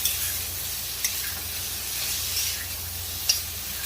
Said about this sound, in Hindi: अब इसको हम खूब तेज आंच से भूनेंगे।